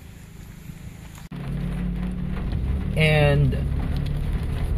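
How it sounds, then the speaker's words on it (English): Rain falling outdoors beside a socialized housing subdivision in the Philippines, a steady broadband hiss of drops on surfaces that grows after a sharp knock, with someone speaking briefly over it. "it's raining now"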